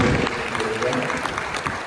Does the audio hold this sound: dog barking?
no